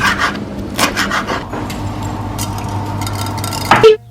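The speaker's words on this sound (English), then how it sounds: "So we're chopping up all those ingredients." Salad ingredients being chopped on a kitchen board, a run of rubbing, scraping knife strokes with a few sharper knocks, close and fairly loud, ending in a brief clatter.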